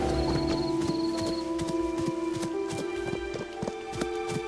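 Hooves clip-clop in a steady trotting rhythm while a horse is ridden in the video game Where Winds Meet, moderately loud over a continuous tonal game music bed, with no talk.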